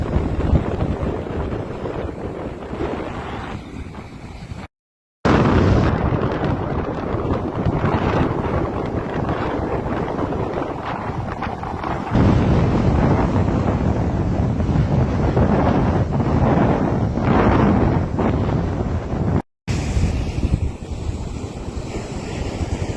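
Strong wind roaring steadily at the Cocoa Beach Pier, loud buffeting microphone noise mixed with crashing surf and blowing sand, continuous and close with two very brief dropouts, no voices.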